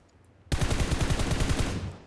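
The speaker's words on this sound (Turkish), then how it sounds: "Hani bak silah sesleri de buradan geliyor işte" Rapid burst of automatic gunfire in PUBG Mobile, a dense string of about a dozen sharp shots lasting over a second, loud and close after a brief quiet lead-in, then trailing off.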